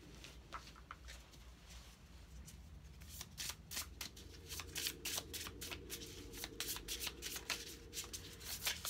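Tarot cards are shuffled by hand to draw an outcome card: quiet riffling at first, then a close, rapid run of crisp card flicks, with no talking.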